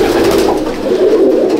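Low, steady cooing from a breeding pair of old-breed Madrasi pigeons, close by and continuous with no talk.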